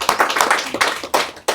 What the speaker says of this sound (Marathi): एकदम टाळ्या वाजवण्यासाठी.